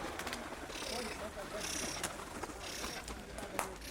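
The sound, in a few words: pigeons cooing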